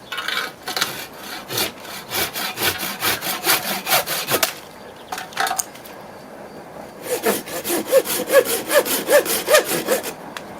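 Dnipro-M hand saw cutting a dry apple branch in quick rhythmic back-and-forth strokes, rasping close and clear, pausing briefly in the middle before resuming with steady strokes.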